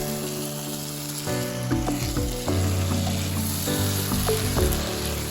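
Soybean chunks drop into a frying pan of nearly cooked potatoes, setting off a steady sizzle with brief bursts and scraping as they land, close and fairly loud, with music playing underneath.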